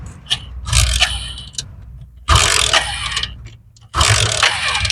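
A technician kick-starts a motorcycle that has broken down by the roadside with a suspected electrical fault, making three separate attempts a second or two apart, each bringing a loud, rough burst of engine sputter close by.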